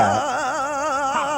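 A long, screaming vocal sample scratched back and forth on a turntable record, heard as a loud, wavering, warbling wail that sustains through the whole short moment, close and alone.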